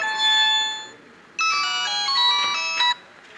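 A phone ringtone plays a bright electronic melody in two short bursts, clear and alone against a faint background hiss.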